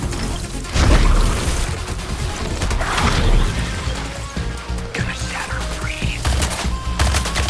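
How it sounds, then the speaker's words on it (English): Artillery cannon gunfire in the Suicide Squad: Kill the Justice League video game, loud repeated blasts and crashes layered over a dense, busy battle mix. "Focusing artillery on Shark. The cannon reveals its flawed anatomy. Focus your fire"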